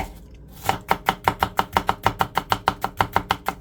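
A knife rough-chops garlic on a cutting board, a quick run of about a dozen crisp, evenly spaced thunks close up and fairly loud, with no talking.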